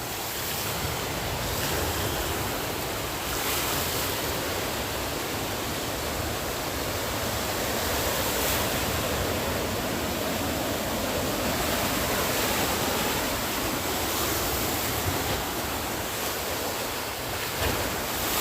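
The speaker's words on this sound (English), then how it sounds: "You can look through the waves as they're cresting." Ocean waves crest and break at Dover Beach the day after a tropical storm, a continuous loud wash of surf with steady rolling roar and wind buffeting the microphone, no voices.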